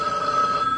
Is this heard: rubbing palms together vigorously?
no